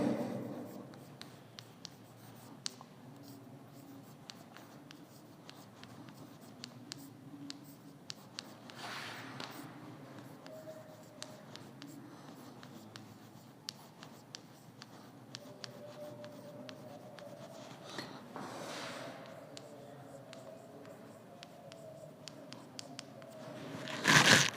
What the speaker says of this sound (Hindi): अब इसकी परिभाषा लिखते हैं।